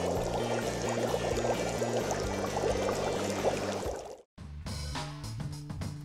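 Water bubbles and simmers in a plastic bottle set over a campfire, a dense fizzing hiss with a low crackle beneath, broken by a brief silence before it resumes.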